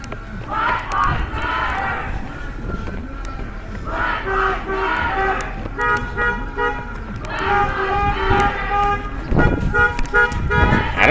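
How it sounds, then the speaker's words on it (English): Car horns honking at a street protest march against police brutality in Rockford, Illinois, repeated toots and longer blasts over a noisy crowd with shouting and chanting throughout. "I don't know if they're honking for support or they want us to get off the road."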